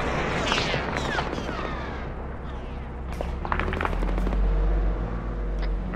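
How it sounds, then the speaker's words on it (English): Heavy booming cannon fire, gunfire and explosions from a video game, with deep blasts and sharp cracks layered over a constant rumbling battle din. "don't go that direction, you got cannon fire aiming at you"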